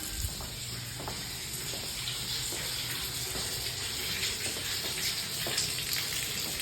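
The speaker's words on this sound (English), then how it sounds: "water's coming out, full force, full pressure, no air spitting out or anything" Water gushing from a faucet at full pressure after a water heater replacement, a steady broadband hiss and splash running continuously and fairly close.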